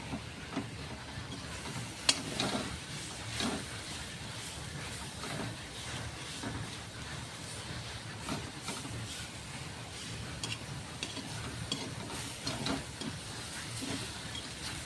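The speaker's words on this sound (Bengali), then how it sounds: "আমি এবার শিলনোড়ার মধ্যে হাতে বেটে নেব।" Fried taro leaves are ground by hand on a stone slab with a stone pestle, giving a steady, quiet scraping and rubbing texture throughout with faint repeated strokes.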